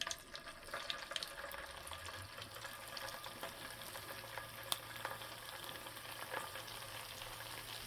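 Chicken veggie pakoras sizzle in hot oil with a steady, continuous crackle and faint bubbling, with occasional louder pops close by and no voices.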